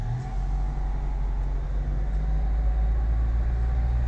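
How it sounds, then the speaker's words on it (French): Driving-school car moving slowly through a town centre, a steady low engine and road rumble heard from inside the cabin, continuous and fairly loud with no talk. "dans une voiture auto-école"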